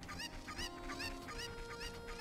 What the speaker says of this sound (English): I need a chicken to stay behind a fence